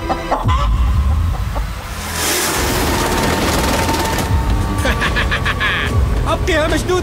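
A caught chicken on an island clucks and squawks in short bursts close by, loud against a rushing, windy background with a few sharp knocks.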